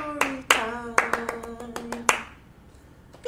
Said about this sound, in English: Everyone can clap, clap, clap, clap, clap, clap, clap, clap, clap.